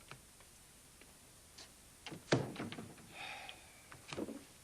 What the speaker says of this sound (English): Megan, you want to close the door?